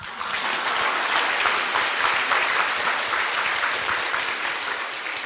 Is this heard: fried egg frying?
no